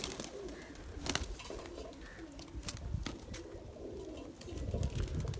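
Pigeons coo softly in a loft near Chiba Chak on the border by Sialkot, low repeated calls under a faint ambient background with a few sharp knocks.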